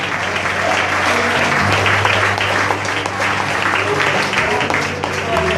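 A congregation claps steadily and loudly during an evangelical church service, dense continuous applause with a low sustained instrumental hum underneath and a voice speaking over it.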